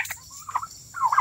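Royal Palm and Red Bourbon turkey toms gobbling in a farmyard, several short warbling bursts close by, separated by brief pauses.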